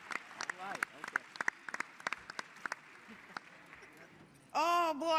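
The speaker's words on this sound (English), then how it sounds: "Let us give the Congresswoman another round of applause." Sparse applause at a Black Caucus meeting during the DNC in Chicago for a congresswoman, a few distinct claps scattered over murmured chatter, followed by a loud burst of voices near the end.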